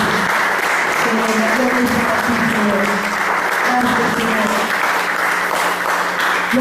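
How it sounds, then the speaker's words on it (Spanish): Sustained applause from a church congregation at a Sunday school service, dense and steady throughout, with music or voices faintly underneath. "Dale un aplauso a Él porque Él se lo merece."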